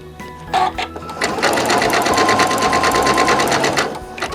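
A sewing machine stitches a coiled rope bowl, its needle running in a fast, steady, close-up whir for several seconds after a few brief starts.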